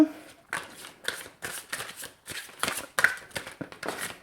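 Guidance cards for an astrology reading are shuffled in a quick run of soft, papery riffles and flicks, close and fairly quiet, with no talking.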